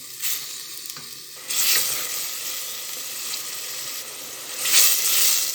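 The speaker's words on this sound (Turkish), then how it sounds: "Soğan ve sarımsağımızı yağda biraz kavuralım." Loud, steady sizzling of onion and garlic frying in hot oil, with bursts of hissing that swell as the pan is stirred.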